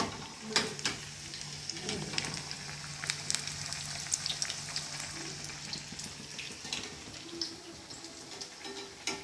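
Banana flower vadas frying in hot oil, a soft, steady bubbling crackle with scattered pops and small clinks, fairly quiet and close, no voices.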